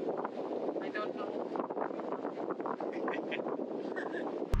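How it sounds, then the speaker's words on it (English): Strong wind buffets the microphone outdoors in West Bali, a steady, loud, rushing roar that fills the whole stretch without letup. "Yes, it's pretty windy right now"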